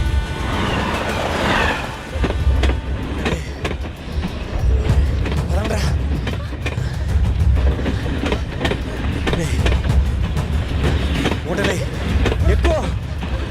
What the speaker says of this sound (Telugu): ఎక్కడో ట్రైన్ చూడండి వినిపిస్తుందిరా.